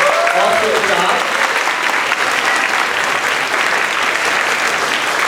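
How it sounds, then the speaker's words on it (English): Audience applause for a fourth grade band at an elementary school spring concert, a dense, steady clapping that stays loud and even throughout, filling the room without pause. "Can we give one more round of applause for them?"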